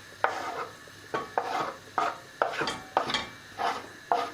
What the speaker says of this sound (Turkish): Sarımsak ve soğanları attım. Şimdi bunları iyice karıştırarak pişireceğim.